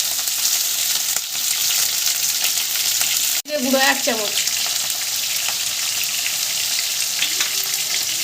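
Small whole okra sizzle in a hot pan with a loud, continuous frying hiss and a sharp clatter midway, while a voice briefly speaks over it.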